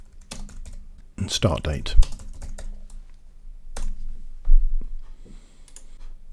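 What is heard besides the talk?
typing on a computer keyboard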